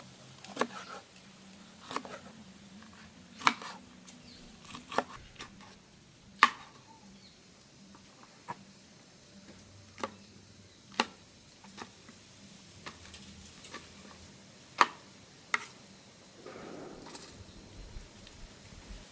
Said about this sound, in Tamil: கரெக்டையும் நாங்கள் வெட்டி எடுப்போம்